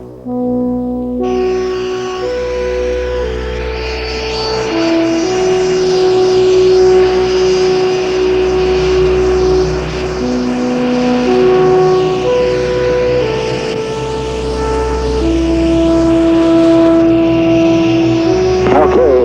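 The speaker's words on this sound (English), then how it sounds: "Boeing 757 ready for takeoff" Boeing 757 jet on its takeoff run, a loud sustained engine roar with shifting tonal whine that builds steadily over the whole stretch.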